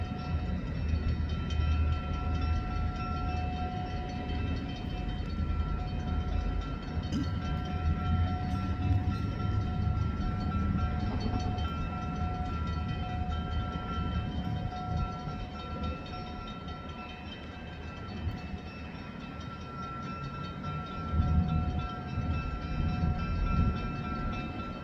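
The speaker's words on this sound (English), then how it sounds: "said a train came by." A train rolls past at a railroad near a derailment and fuel spill scene, a steady loud rumble with metallic rail tones sustained throughout, no talking.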